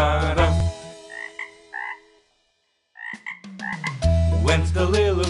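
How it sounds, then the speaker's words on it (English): A cartoon frog croaks in a children's song about a little green frog. The croaks come in short repeated bursts, loud and close, mixed with the music. "We all know frogs go la di da di da."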